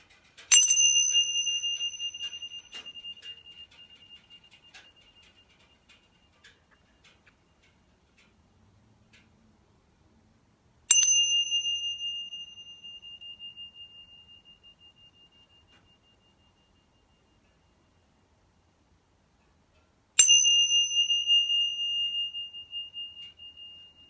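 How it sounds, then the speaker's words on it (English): A meditation bell is struck three times during a mindfulness session, each clear ring starting bright and slowly fading to silence over several seconds, with no talking. "return back to the sound of the bell. See how long the sound of the bell lasts."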